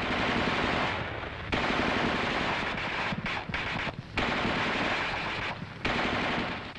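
The coaxial machine gun of an M551 Sheridan armored reconnaissance assault vehicle fires in several long, loud bursts, each a dense rattling roar separated by brief pauses.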